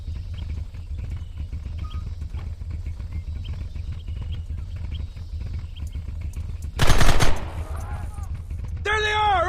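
Gunfire from a shootout in the video game Red Dead Redemption, a dense burst of overlapping shots erupting loudly amid game ambience and shouted dialogue, with music and voices around it.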